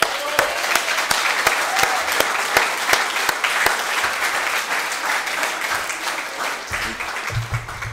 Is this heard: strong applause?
yes